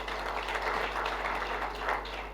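Audience applause at the closing ceremony of a three-day training session, a steady, moderate wash of clapping hands heard from a distance over a low electrical hum.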